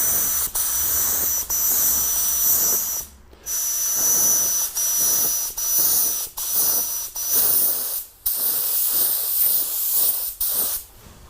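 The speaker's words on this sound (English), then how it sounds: "We're gonna use the Eastwood LT100, which is the original R500." Car paint sprayed from an Eastwood LT100 spray gun in loud, close, hissing bursts of about a second each, broken by short pauses as the trigger is released, with no talking.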